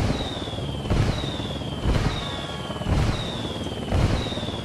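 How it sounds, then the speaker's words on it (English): Artillery indirect fire in the Ghost Recon Wildlands video game: four evenly spaced incoming whistles, each falling in pitch and ending in a booming blast about a second apart, loud over a steady background rumble. "I'm calling for indirect fire."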